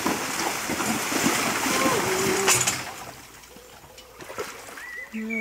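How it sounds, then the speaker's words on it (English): Water splashes and churns steadily at first as a pair of Connemara mares walk into the water, then quiets to lighter sloshing, with someone talking over the splashing. "they're entering the water at the walk"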